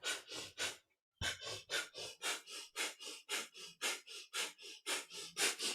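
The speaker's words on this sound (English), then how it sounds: "keep your breath of fire, your panting breath" Rapid rhythmic breath of fire in a kundalini yoga session, a steady stream of sharp panting exhalations at about three per second, close and fairly loud, with a brief pause before the pumping resumes.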